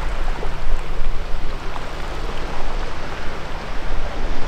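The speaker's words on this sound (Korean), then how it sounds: "자갈 굴러가는 이런 파도 소리" Waves roll pebbles on a gravel beach at Taejongdae in Yeongdo, Busan, making a continuous loud rushing wash with gentle surging swells and faint clattering stones.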